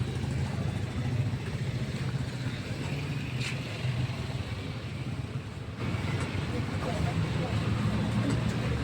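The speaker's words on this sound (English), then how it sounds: "सिर्फ traffic jam पूरा जाम है वो पूरा जाम" Road traffic jammed between Ganesh Mandir and Kahilipara in Guwahati, with a steady rumble of idling and creeping cars and motorbikes, wind buffeting the microphone and someone talking over it.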